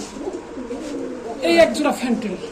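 Pigeons offered for sale coo close by, with low, soft, rolling calls that swell near the middle and overlap with voices talking.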